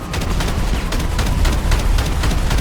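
Small Gatling guns on an Oppressor MKII in GTA Online firing explosive ammo, a steady loud stream of rapid, evenly spaced bursts with no one talking.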